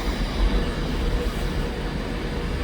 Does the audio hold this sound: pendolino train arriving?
yes